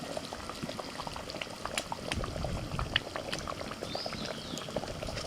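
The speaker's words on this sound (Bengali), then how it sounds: "মশলা টকবক করে ফুটছে" Masala spice paste for a katla fish curry bubbling in a pan over medium heat, a dense, steady burble of popping bubbles with occasional sharper pops, close-up and continuous with no talking.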